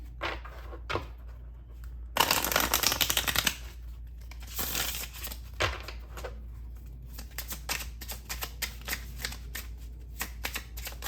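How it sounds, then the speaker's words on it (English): Tarot cards being shuffled in quick riffling bursts, with softer taps and slides of cards between them, close by and without talk. "I'm gonna start off with these cards and we're gonna shuffle along the way"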